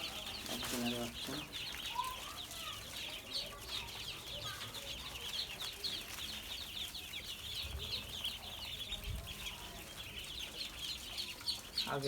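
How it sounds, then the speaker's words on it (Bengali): A brood of about 200 newly bought ducklings on a small duck farm peep in a dense, continuous high-pitched chorus throughout, close by, with occasional louder chirps standing out. "আজকে 200 হাঁসের বাচ্চা উঠাইলাম।"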